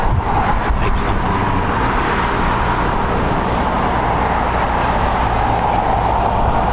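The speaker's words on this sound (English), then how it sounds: "Departing American Airlines Flight 27 going to Tokyo, Haneda. It is a Boeing 787-8 Dreamliner, 2 years old." An American Airlines Boeing 787-8 Dreamliner bound for Tokyo Haneda rumbles on departure at LAX, a steady moderate engine drone with low traffic-like hum underneath.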